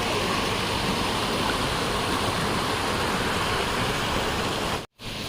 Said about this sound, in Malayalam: പോകുന്ന വഴിക്കുള്ള ഒരു വെള്ളച്ചാട്ടം ചെറുങ്ങനെയുള്ള ഒരു